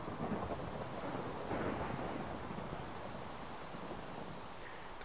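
Thunder from lightning in Minecraft, a long low rumble rolling on and off amid a broad rain-like hiss, steady and fading slightly toward the end, with no talk.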